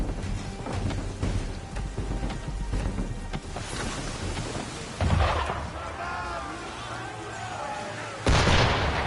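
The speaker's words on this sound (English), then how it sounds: "Why is he shooting at us?" Deep cannon booms from a ship in Assassin's Creed III, heavy blasts rolling out over rain and storm-like ambience, with two sharp loud impacts standing out near the end and a voice speaking briefly.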